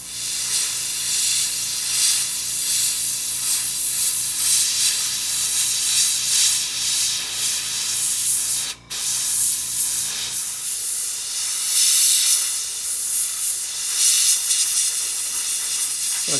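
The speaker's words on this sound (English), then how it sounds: "like a double action airbrush, so just try it somewhere that you can really go very thin without any overspray" A Mister Paint double action airbrush sprays thin, freehand coats in a steady airy hiss that runs almost the whole time. A short break comes near the middle, and the spray sounds rougher and broader toward the end.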